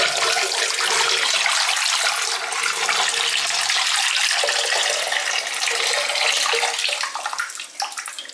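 Large volume of water poured out of a clothes dryer's condensate tank, a loud, steady splashing rush that runs continuously for several seconds before thinning slightly at the end.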